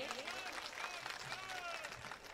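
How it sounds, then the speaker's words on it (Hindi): Audience applause at an Urdu mushaira poetry gathering, a kul Hind Mushaira in Patur, Akola, Maharashtra: sustained clapping throughout, with a voice talking over it. "सब मिलकर एक बार जोरदार ताली बजाएंगे"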